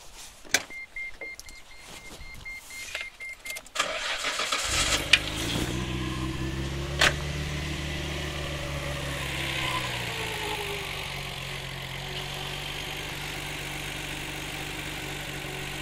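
A few clicks and a whirring crank, then a tuned Nissan Skyline GT-R R33 engine catches and settles into a deep, steady idle that continues close by.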